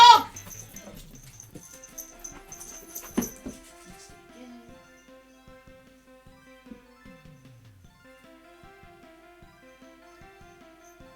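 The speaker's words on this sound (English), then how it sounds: "Oh, shut up, dog!" A dog whimpers and yips in short high cries, with a sharp burst near the start, then quieter intermittent whines over a muffled indoor background.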